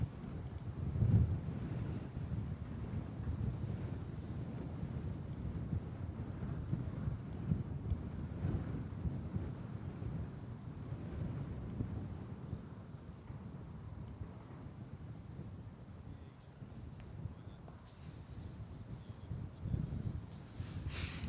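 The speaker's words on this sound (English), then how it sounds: "She's getting pretty blustery out here" Gusty wind buffets the microphone at Bristol Airport on a blustery day, a continuous low rumbling roar with uneven surges and no voices.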